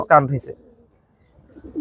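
A tournament racing pigeon gives a short, close coo of a second or so. It fades off, then starts again faintly at the end. Nothing else is heard.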